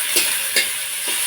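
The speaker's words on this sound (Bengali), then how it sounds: "পেঁয়াজটা একটু ভেজে নেওয়ার পর এখন এর মধ্যে দিয়ে দিচ্ছি একটা টমেটো কুচি।" Chopped tomato goes into onion frying in oil and is stirred, giving soft, steady frying noise with three short, brighter sizzle bursts spaced about half a second apart.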